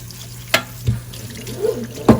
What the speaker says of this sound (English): if you use good hot water, wash them clean